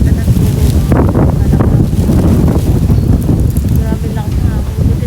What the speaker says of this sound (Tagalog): Buti na lang malakas ang hangin